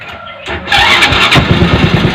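A motorcycle-type engine fitted in a car setup cranks with a starter and catches, then settles into a loud, close, rough running rumble.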